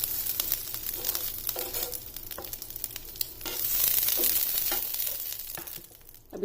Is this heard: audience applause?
no